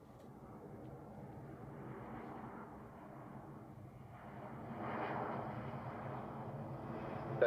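A British Airways airliner comes in to land at Zurich Airport, its engines a steady, moderate rumble at a distance that swells somewhat toward the end.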